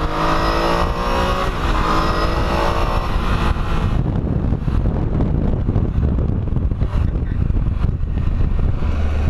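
A 2019 Triumph Tiger 800 XRx motorcycle is being ridden hard with strong acceleration to clear out carbon deposits, its engine roaring loud and sustained under heavy wind noise throughout.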